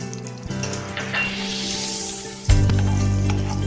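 Butter melts in a pan on the stove with a soft sizzle, followed by a sudden louder, fuller hiss as the pan settles back onto the heat.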